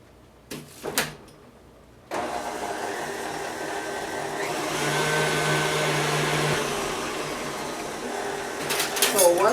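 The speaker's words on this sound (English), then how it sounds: "I'm going to mix this up a little bit better first" An electric mixer whirs steadily through chocolate zucchini cake batter with butter and vanilla in a bowl, starting after a couple of clicks and running loud and continuous until a scrape at the end.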